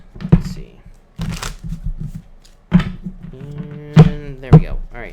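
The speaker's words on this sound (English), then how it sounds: "2 more shuffles here, everybody." Tarot cards being shuffled by hand, with a few quick papery riffles and soft thumps as the deck is squared, close up and mixed in with a person talking.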